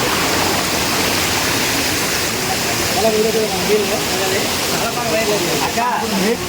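Kushaloya falls pours in a dense, steady roar of water throughout, with several people talking faintly beneath the rush.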